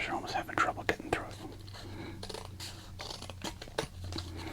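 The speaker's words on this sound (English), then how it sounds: "Scissors are almost having trouble getting through" Scissors snip through a thick Topps Heritage card pack wrapper with close, crisp cuts and crinkles in a quiet, whispery ASMR setting, a soft voice murmuring between the bursts.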